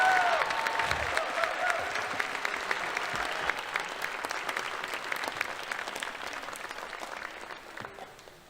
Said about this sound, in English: let's please give one more big round of applause for all of our career and technical education program area